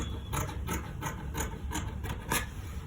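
Scissors trim organza fabric for a top, a regular series of short, close snips about three per second with no talking.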